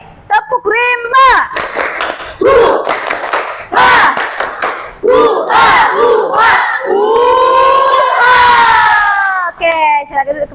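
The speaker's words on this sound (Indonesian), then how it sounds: "Sekali lagi, tepuk rimba." Junior high school students in a classroom repeat the tepuk rimba clapping chant: a loud group chant of rhythmic shouted syllables punctuated by crisp unison claps, building to a drawn-out collective cheer near the end.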